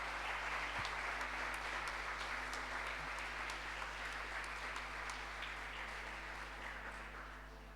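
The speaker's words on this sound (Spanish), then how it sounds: "Dale un gran aplauso al Señor" A church congregation applauds during a sermon, a soft, distant, continuous patter of many hands over a steady low hum, gradually fading toward the end.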